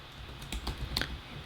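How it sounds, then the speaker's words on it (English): Keys clatter on a computer keyboard as a word is typed into design software, a short quick run of close, light clicks alone without speech. "type in your word"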